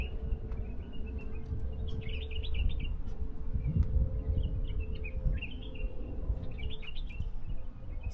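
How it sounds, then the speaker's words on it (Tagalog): Birds chirp and tweet in an outdoor park in Riyadh, Saudi Arabia, with repeated short bursts of calls over a steady low background hum, moderately close. "marami kang maririnig na ano, huni ng ibon"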